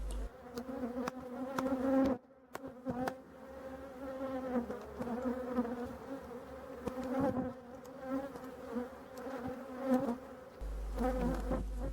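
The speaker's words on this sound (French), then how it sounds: "on entend bien que les abeilles sont un petit peu énervées" Dense, steady buzzing of many agitated honeybees close by at a hive, restless and droning with small swells in loudness throughout, no voices.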